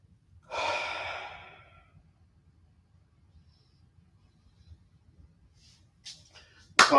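A long yoga breath drawn in and released, a soft airy rush lasting about a second and a half, then quiet before fainter breaths and a sharper intake at the end; no talking.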